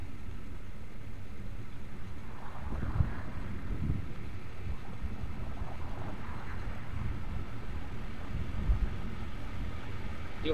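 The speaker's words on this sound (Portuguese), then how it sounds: "E o vento aqui também tá forte hoje" Strong wind roars across the microphone while riding a 50cc Shineray motorcycle, a steady low rumbling buffet that runs the whole time with no one talking.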